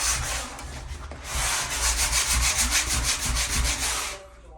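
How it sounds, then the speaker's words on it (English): Fine sandpaper rubbed by hand across a painted door to dull its glossy finish, a steady run of quick back-and-forth scratchy strokes, close and fairly loud, after a brief pause near the start. "You're making it dull, you're scratching with fine sandpaper"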